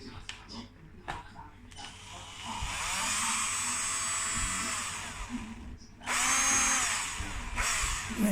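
A Jiapu cordless drill on a 16-volt battery, with a replaced trigger, whirs in two sustained bursts with short revving starts, separated by pauses, some clicking and handling noise in between.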